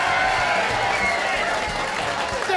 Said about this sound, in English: if you thought the woman in pink's poem was the best, cheer now